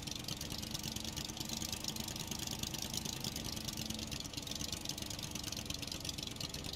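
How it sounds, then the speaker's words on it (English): A gas-powered engine on a raft in the survival game Stranded Deep runs at a steady idle, a continuous mid-pitched mechanical drone with a faint knocking texture and no talking. "This engine is going to be a huge time saver"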